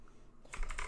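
A short burst of rapid clicks from typing on a computer keyboard, close and crisp, after a moment of near-quiet.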